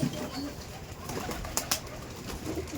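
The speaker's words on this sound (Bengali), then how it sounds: "এই পায়রাটা দেখুন, এই অনেক পায়রা আছে" Pigeons coo at a loft run by a pigeon keeper in Bangaon, low murmuring calls rolling on steadily through the background, with a couple of brief sharper flutters or clicks midway.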